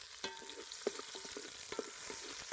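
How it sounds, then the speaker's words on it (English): Chopped onions frying in oil in a pot over a steady soft sizzle, with several scraping stirring clicks at irregular intervals. The sound is quiet and close, with no voices. "Some oil in. I'll add my chopped onions in."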